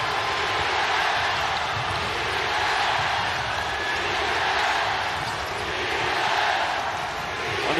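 A home crowd roars and cheers at a FIBA World Cup basketball game between the Philippines and Angola, a dense, steady wall of arena noise swelling and easing slightly throughout.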